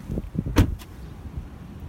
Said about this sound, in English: Now shut the door